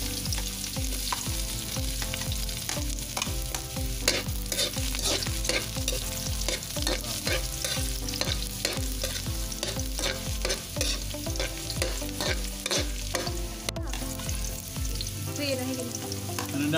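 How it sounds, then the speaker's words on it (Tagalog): Ginger and garlic sautéing in hot oil in a pan for goat bopis (kadingga), a loud, dense, continuous sizzle with constant crackling and stirring throughout. "Magigisa na tayo. Unahin natin luya. Tapos sunod natin yung bawang."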